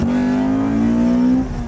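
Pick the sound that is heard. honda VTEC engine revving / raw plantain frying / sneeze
honda VTEC engine revving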